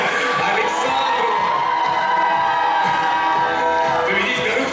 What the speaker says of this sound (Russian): Аплодисменты, друзья, Александру!